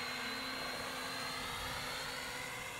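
An XKJ K6 toy drone flies nearby, its small propellers giving a steady, high-pitched whining buzz that stays constant throughout with no speech.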